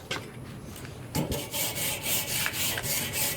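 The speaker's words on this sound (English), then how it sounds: "Brush it down." A wire brush scrubbing down a hot grill grate, a faint scrape at first, then repeated rasping back-and-forth strokes, close and steady with no talking.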